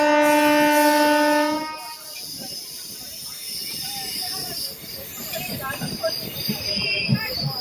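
The Santragachi–Digha Fast Passenger rolls out from Tamluk Junction toward Digha. A long, loud horn-like tone opens the sound, then gives way to steady wheel rumble and squealing on the rails, heard close from on board.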